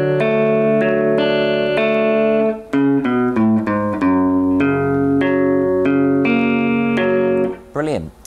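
Single guitar notes plucked one after another through a bar chord shape, clear and ringing with overlapping sustain, ending in a brief sliding tone.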